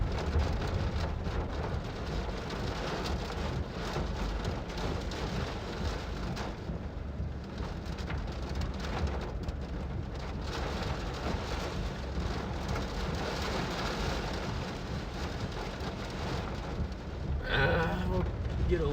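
Heavy rain roars steadily during a massive wedge tornado storm in Nebraska, a dense unbroken wash of downpour and wind with a brief louder burst near the end.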